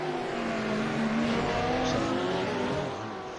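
GT race cars in a GTE/GT3 racing game brake hard into a hairpin, engines holding loud, steady harmonic tones that shift in pitch as they slow, with a brief tire squeal over a continuous dense mechanical roar.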